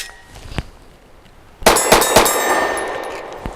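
A Gen 4 Glock magazine drops from a pistol and lands with a sharp metallic clatter, a few quick bouncing clicks close by, after an earlier lighter click, with a faint tap at the end.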